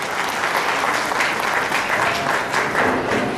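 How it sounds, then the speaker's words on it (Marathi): Audience applause at a cultural festival in Akola, dense continuous clapping from a large crowd, loud and steady throughout with no voices on top. "तेव्हा एकदा जोरदार टाळ्यांचा गजर आमच्या एक्झिक्युटिव्ह डिरेक्टरसाठी."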